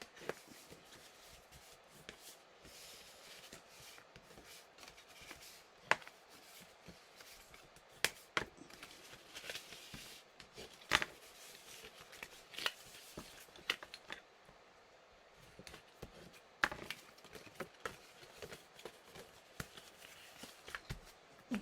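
Paper being folded and creased to form a box, with soft rustling and scattered sharp crisp crinkles and presses, quiet and close.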